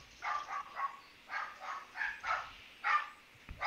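A dog barks in a quick series of yips and woofs, about eight short barks in uneven rhythm, fairly faint and somewhat distant, with no talking over them.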